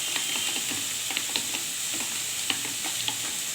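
A spice paste of salt and turmeric being stirred with water in a pan, giving a continuous wet sizzle and scraping with small regular clicks from the spoon, close and fairly loud.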